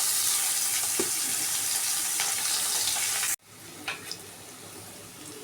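Snake gourd sautés in hot oil with mustard seeds, a dried chilli and curry leaves, a loud steady sizzle close by that cuts off abruptly, leaving faint stirring clinks.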